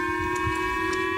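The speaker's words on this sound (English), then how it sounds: "Air raid sirens wailing over parts of northern Japan early Tuesday morning" Air raid sirens wail over northern Japan early on a Tuesday morning as a North Korean missile passes overhead, a steady, loud sustained tone with layered harmonics, heard alone without voices.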